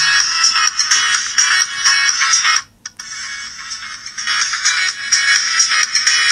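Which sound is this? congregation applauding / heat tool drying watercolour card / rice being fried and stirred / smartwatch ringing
smartwatch ringing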